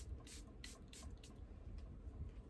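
Short hissy bursts of a makeup setting spray, four or five quick pumps close to the mic, over a low room rumble.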